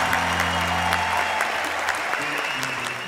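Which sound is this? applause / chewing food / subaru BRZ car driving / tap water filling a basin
applause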